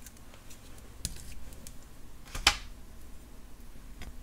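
Soft aluminum jewelry wire is snipped once by cutters, a single crisp click standing out near the middle against a quiet background with a few faint tiny taps.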